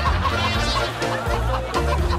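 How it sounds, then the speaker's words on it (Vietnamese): A chicken clucks loudly and close in a domestic Vietnamese setting, with a steady stream of throaty clucks and squawks that fills the whole moment and has no talking over it. "Tiếng của gà."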